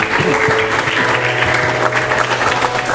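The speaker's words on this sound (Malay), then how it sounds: "beri tepukan yang besar kepada" Students at a secondary school assembly applaud in a steady, dense burst of clapping that fills the hall, with faint murmuring underneath.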